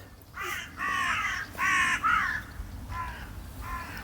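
Crows cawing in a garden setting, a run of harsh, loud caws in short bursts, several calls close together with a couple of fainter ones trailing off at the end.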